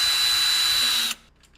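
A cordless power drill runs briefly to tighten door knob screws, a loud whirring burst of about a second that cuts off abruptly into near silence.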